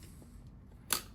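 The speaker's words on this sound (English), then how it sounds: "You spray a little spritz in there" A quick, brief spritz of Deoxit D5 contact cleaner from a small spray can into a guitar pedal jack, a single short hissing burst near the end after quiet handling noise.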